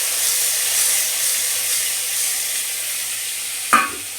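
Grated tomato and ginger fry with cumin seeds in hot oil, giving a continuous bright sizzle and hiss, with a single short knock near the end.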